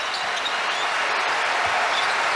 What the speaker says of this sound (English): The crowd applauding the hustle